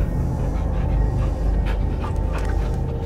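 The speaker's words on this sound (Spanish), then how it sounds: "Yo oigo ladridos de perro." Cosmo, the space dog in the Guardians of the Galaxy video game, pants in steady rapid breaths, close and continuous over a low game ambience, with no talking.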